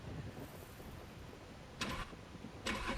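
A Porsche 918 Spyder in The Crew Motorfest starts up. A low engine murmur is followed by two sharp, bright bursts near the end, close and fairly loud.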